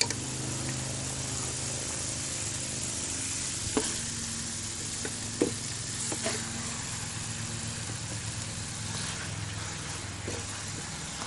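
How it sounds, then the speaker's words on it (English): Meat stirred into green curry in a pan gives a steady low sizzle with a few soft scraping knocks from the spoon, close and continuous with no talking. "stir your meat and try and mix them all together"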